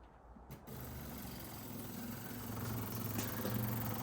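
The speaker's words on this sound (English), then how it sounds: "we've rigged something up with a kind of motorcycle battery, a little ticker pump, and some rubber hose to try and get this old fuel out of this petrol tank" A small ticker fuel pump, run off a motorcycle battery through rubber hose, draws old petrol from a BMW E46 M3 tank: a steady mechanical whir and hum that starts abruptly and keeps running close by.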